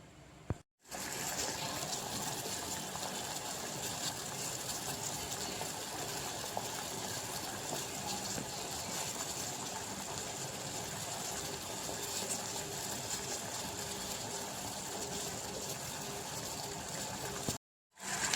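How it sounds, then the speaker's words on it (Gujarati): Jaggery water with a spoonful of oil boiling hard in a pot for Gujarati wheat-flour lapsi, a steady loud rushing bubble that holds evenly for about seventeen seconds before cutting off. "હવે આપણે લાપસીનું પાણી ઉકળી ગયું છે"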